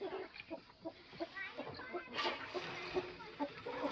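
Farmyard rooster clucking in short, repeated calls at moderate distance, mixed with other fowl and faint background voices, with a steady high-pitched hiss behind.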